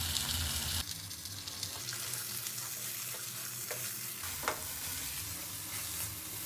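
Green peas, about 250 grams with salt, fry in a pan for matar paneer, a close steady hissing sizzle with a few stirring scrapes and clinks, no one speaking.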